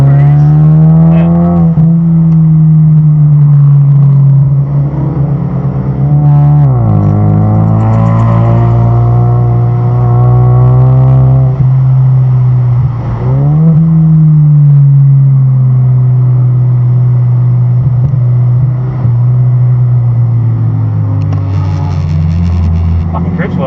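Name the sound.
4-cylinder turbo car driving on track, dashcam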